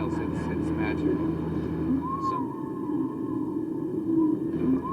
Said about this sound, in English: you hear maybe a whale 2 miles away, you hear a whale much closer, and they're all sort of bouncing the same song around to each other